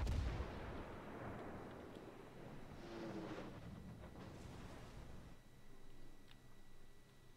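Cruiser Nuremberg firing its guns in the World of Warships naval game: a heavy opening blast followed by a steady rumble of repeated gunfire and distant booms, with sharp clicks and ticks scattered over the sustained battle noise.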